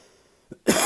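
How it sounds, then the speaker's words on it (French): One short, small cough, followed right after by a louder, harsher cough close up. "Excusez-moi si je tousse un petit peu"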